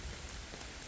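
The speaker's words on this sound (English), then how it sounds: "it is raining now" Rain falls on a countryside walk near Matlock, Derbyshire, a soft, even hiss of drops that is faint and steady with no voices.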